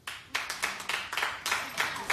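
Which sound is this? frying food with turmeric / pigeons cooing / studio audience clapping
studio audience clapping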